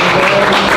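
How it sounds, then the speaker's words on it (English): A church audience applauding, a brief dense burst of close, loud clapping with no pauses. "Clap us for them, clap us for them."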